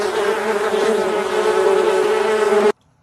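A child imitates a buzzing bee with a steady, loud, close-up vocal buzz that lasts under three seconds and then cuts off abruptly.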